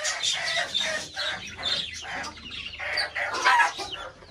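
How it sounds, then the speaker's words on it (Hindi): Chickens and small chicks cluck and chirp continuously at close range, a busy overlapping flock chatter with louder bursts throughout and no talking. "और छोटे चूजे ये भी हमने पकड़ लिए।"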